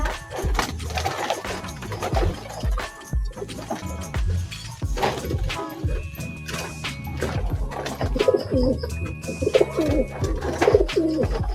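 Racing pigeons coo in a loft, overlapping soft throaty calls repeating close by, with faint rustling and bits of background noise.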